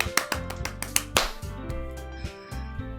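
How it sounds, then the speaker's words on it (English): Applause sound effect from the visual novel game Doki Doki Literature Club: a short burst of sharp, close claps in an uneven rhythm over a steady musical background, fading after about three seconds. "Natsuki finishes and everyone applauds."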